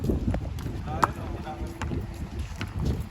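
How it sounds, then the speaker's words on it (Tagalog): Gusty wind buffets the microphone in a rough, rumbling roar, with people's voices faintly mixed in underneath. "Ilang lakas ang hangin."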